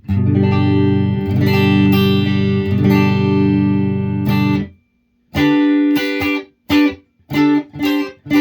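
Fender Strat electric guitar played clean through a solid state Fender amp: sustained strummed chords ringing for several seconds, then a short silence and a series of shorter chords and choppy stabs, loud and close.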